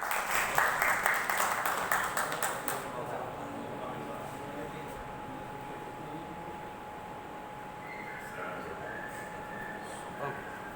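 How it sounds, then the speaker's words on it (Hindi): Audience applause welcoming the poet Master Ejaz at a Jamia Faiz-e-Nasir gathering: a brief burst of clapping in the opening seconds that fades quickly, leaving a steady hum and low room noise. "ज़ोरदार तालियों से इस्तकबाल कीजिए"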